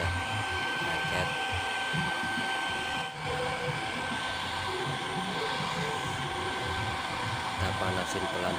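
A hair dryer blows steadily at moderate volume while heating the headlamp of a 2005 Toyota Vios Limo, a continuous whirring hiss with a faint high whine and small handling noises.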